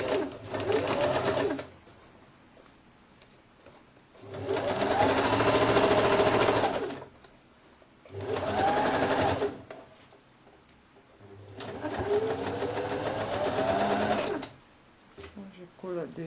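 Domestic sewing machine stitching the shoulder seams of a women's blouse with a Peter Pan collar, four loud buzzing runs of rapid stitches separated by pauses, with someone talking quietly between them.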